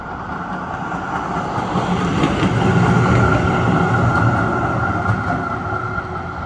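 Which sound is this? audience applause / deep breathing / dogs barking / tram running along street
tram running along street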